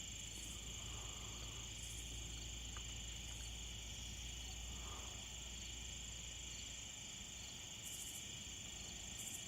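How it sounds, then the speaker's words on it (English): Crickets chirp steadily outdoors at night, a continuous high shimmering trill with faint intermittent pulsing calls over a low background rumble. "Hear the crickets going."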